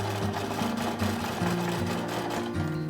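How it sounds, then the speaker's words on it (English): A sewing machine stitches in the ditch along a quilting seam for about an inch, a steady close whirring hum with a rapid rhythmic needle chatter that holds nearly constant, heard on its own with no talking. "Let's stitch down that ditch for 1 inch."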